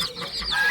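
A chicken gives a brief cluck, close and fairly clear, in a short moment without talking.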